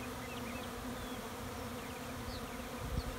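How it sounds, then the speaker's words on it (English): Honeybees swarm around backyard hives, a steady droning buzz close by with individual bees zipping past now and then, no voices. "There's a lot of bees flying around."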